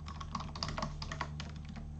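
Quick, light clicking of keys being typed on a computer keyboard into a Google Docs document, a steady close patter of keystrokes in a quiet room.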